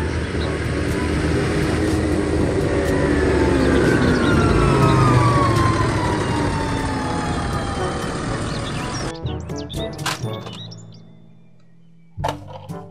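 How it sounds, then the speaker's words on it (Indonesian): A toy ambulance's wailing siren sweeps up and down continuously at close range, then cuts off abruptly, followed by a few scattered clicks and knocks. "Mobil ambulans."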